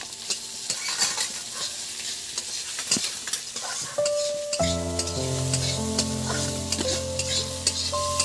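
Cauliflower mixture for paratha fries in a pan, a steady close sizzle with stirring scrapes, later joined by sustained tonal hum, no talking.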